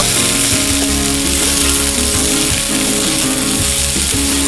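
Onion with garlic and ginger paste frying hard in a pan for an egg and potato curry, a loud continuous sizzle with scraping stirring strokes and clattering underneath.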